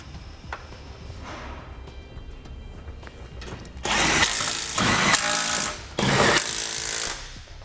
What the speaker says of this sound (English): Now we'll reinstall our 4 10mm bolts that hold our fascia to the bottom of our radiator support.